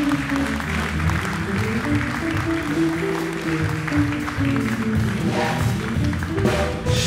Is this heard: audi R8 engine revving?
no